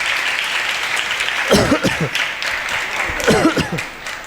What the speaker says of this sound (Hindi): सभी लोग ताली बजा करके इनके नियमों की आलोचना करो।